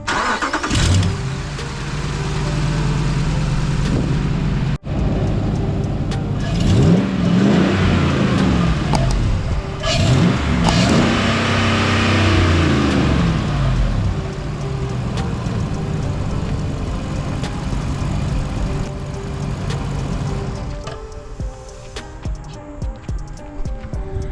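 A Dodge Ram Hemi V8 fitted with a cold air intake cranks and fires, then revs loudly through several throttle blips before settling toward idle, with a ticking exhaust from worn manifolds, close and dominating.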